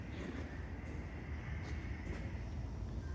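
A steam railway train at the Stephenson Steam Railway rumbles steadily with a broad low roar and faint hiss, a continuous moderately loud passing drone with a few brief higher bursts.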